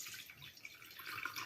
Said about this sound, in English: just gonna tip some water in there.